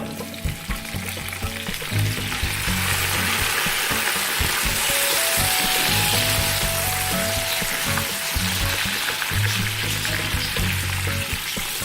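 Chicken pieces fry in oil in a pot for a chicken yakhni pulao, a loud, constant sizzle with crackling and occasional stirring clinks, heard without any voices.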